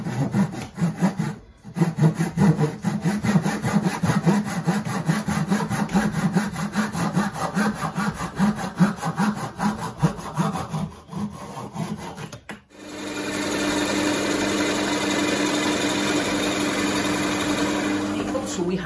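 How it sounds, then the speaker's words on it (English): A hand saw cutting a piece of wood, with a loud, close, rhythmic rasp of strokes for about twelve seconds, then a steady engine-like hum takes over. "if you cut off another wee bit off that piece of wood, stick it in nice down and tight"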